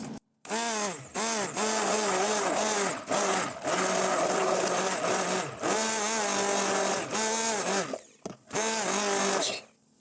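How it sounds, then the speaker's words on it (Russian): A hand blender whirs steadily in bursts, mixing ingredients in a bowl, its motor pitch wavering, with short pauses between runs. "Просто перемешиваем блендером."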